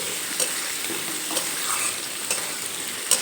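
Fish roe curry with ground spice paste fries and is stirred in a pan over a medium gas flame, a continuous close sizzle broken by several sharp scrapes of the spoon against the pan.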